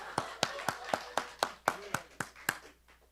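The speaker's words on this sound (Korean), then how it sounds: "우리 박수로 환영합시다." A small church congregation at a special prayer meeting claps together to welcome someone, about ten sharp, evenly spaced claps in a steady rhythm, fairly close and quiet, fading out after three seconds.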